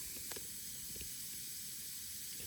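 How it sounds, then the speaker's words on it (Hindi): A homemade raw alcohol mixture fizzes and bubbles in a reaction, giving a faint, steady hiss with a few tiny pops close by and no talking. "आप देख पा रहे हो इसके अंदर कमाल के तरीके से बबल उत्पन्न हो रहे हैं।"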